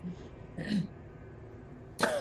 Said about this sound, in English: And I kind of cough.